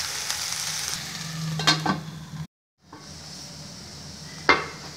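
Okra (ladies finger) frying in a pan, a soft steady sizzle broken by a few stirring clinks, a short silent cut, then more frying and a final utensil knock, with no talking.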